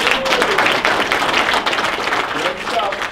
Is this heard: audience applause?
yes